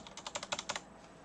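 A short run of about ten rapid, evenly spaced keystrokes on a computer keyboard, crisp and close but quiet, then stopping.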